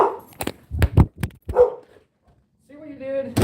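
A dog barks several sharp, close barks in quick succession, wanting to go outside, followed by a short pause and then a person speaking.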